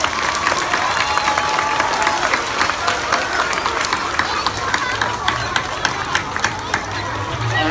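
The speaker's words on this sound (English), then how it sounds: "let's give one more big old round of applause for everyone here today" A school event crowd gives a big round of applause, dense and continuous clapping filling the space with a murmur of voices underneath and the noise settling slightly toward the end.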